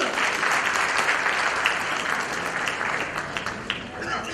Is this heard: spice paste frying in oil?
no